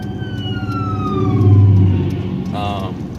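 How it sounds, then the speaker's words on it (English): Ambulance siren on a road, heard from inside a moving car, its wail sweeping downward over steady engine and road rumble, with a brief burst of sound near the end. "We got a ambulance coming up here."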